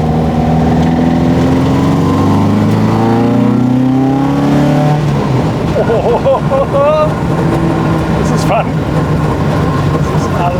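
A loud Alfa Romeo 33 race car engine with a close-ratio gearbox climbs in pitch through gears on the road, then shifts into a rough, buzzing rev with quick surges, close and dominant throughout.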